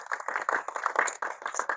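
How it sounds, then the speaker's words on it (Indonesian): Audience applause at an evening talk event in Boyolali, a steady patter of many hands clapping for under two seconds, fairly even in level with no voices over it. "Tepuk tangan buat kita semua."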